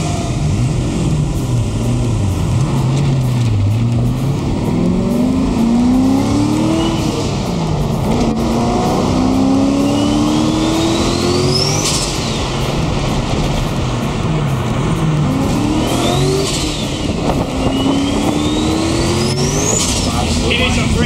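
A race car running on Shell unleaded race fuel roars close by, revving and accelerating with engine pitch sweeping up and down, tires spinning and squealing, with people talking over it.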